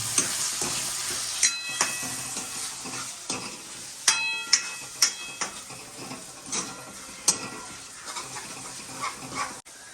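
Green pigeon peas (tuver) cook in a pan over medium heat with a soft, steady sizzle, broken by sharp metallic clinks of a utensil against the pan.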